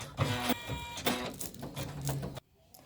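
Embroidery machine stitching the windows of a castle design, a loud rapid mechanical chatter that runs in repeated bursts with brief pauses, then cuts off abruptly near the end.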